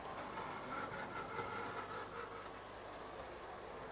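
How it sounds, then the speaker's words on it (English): A small ready-to-run EFE/Kernow Southern Railway CC1/Booster model locomotive runs with a steady whirring rumble and faint scraping, continuous and fairly quiet throughout. "I don't know why it's making that scraping noise."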